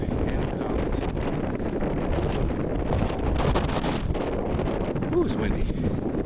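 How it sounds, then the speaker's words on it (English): Strong wind buffets the microphone on an early morning outdoor walk, a steady low roaring rush throughout. "Ooh, it's windy."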